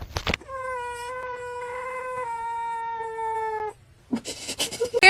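A cat lets out one long, drawn-out meow lasting several seconds, loud and close, with the pitch wavering slightly. Brief rustling and knocking come before and after it.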